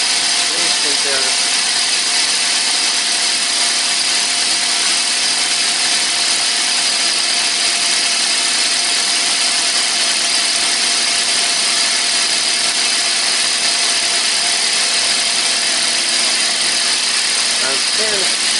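Car engine idling during a timing chain check, a steady even mechanical drone with a faint rhythmic ticking, close and continuous throughout.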